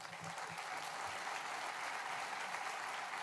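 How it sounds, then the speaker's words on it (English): An airport business conference audience in a general session gives a round of applause, heard as fairly faint, even, continuous clapping from a large room, with a few low bumps near the start. "So please join me in giving them a round of applause"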